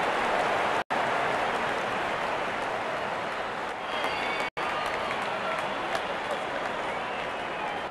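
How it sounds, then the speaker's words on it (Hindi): A big cricket crowd applauds without a break at an Australia versus England match in 2022, hailing a batsman's fifty. The dense, roaring clapping stays loud the whole time, with a couple of sharp dropouts. "इस 50 रन को अपने तालियों से सराहते हुए"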